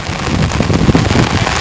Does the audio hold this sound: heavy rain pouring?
yes